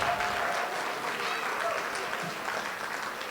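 Wedding guests clapping for the couple as they stand, a sustained burst of applause with crowd chatter and cheering mixed in, moderately distant and even throughout.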